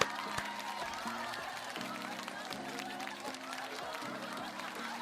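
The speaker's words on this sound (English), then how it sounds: "I'm clapping in y'all ears" A man claps his hands close to the microphone in a steady, repeated rhythm of sharp smacks over a background of voice and music.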